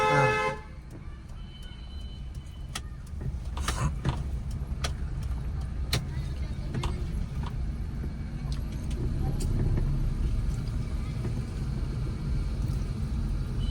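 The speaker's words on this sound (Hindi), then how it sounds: "लॉन्ग हॉर्न प्रेस करो" Car horn sounded during a driving lesson through narrow lanes in first and second gear: a harmonic honk at the start, then a steady engine rumble and road noise with people talking over it.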